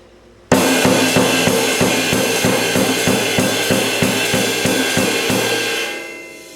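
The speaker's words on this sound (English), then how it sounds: "Old-time jazz would sound like this for the bass drum and the cymbal." An old-time jazz pattern: a steady four-on-the-floor bass drum thumps evenly under a constant washing cymbal, played alone at a moderate tempo before fading out.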